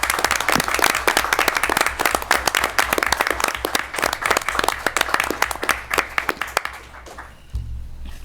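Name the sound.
council meeting audience applause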